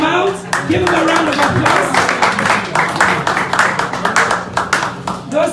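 Audience at a fundraising event clapping in a room, dense close applause that runs on and gradually thins into scattered claps, with voices heard underneath.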